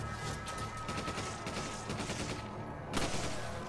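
Gunfire in the video game Resident Evil 5, rapid bursts of shots over a dense game soundscape, fairly loud, with a brief lull before another burst.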